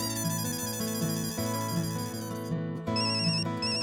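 A phone ringtone plays a steady, repeating electronic melody, loud and close, through the whole stretch, with a brief dip in the upper notes partway before it carries on.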